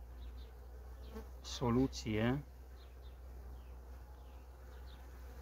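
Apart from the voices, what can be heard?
honey bees buzzing at the hive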